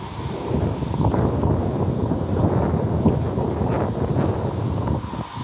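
Heavy rain and wind roar steadily outdoors during a storm, with low rumbling that may be distant thunder, a dense continuous wash with no voices.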